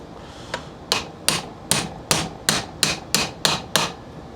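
A hammer strikes a deep socket about ten times, driving a spacer onto the spindle of a John Deere LA145 riding mower; the sharp metallic blows come close together and speed up slightly.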